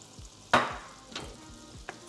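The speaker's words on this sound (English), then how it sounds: "You gotta stir all those flavors." Brussels sprouts with a teaspoon of chili oil sizzling in a pan, three sharp stirring scrapes spaced out over a quiet fry, close with a faint background rhythm and no talking.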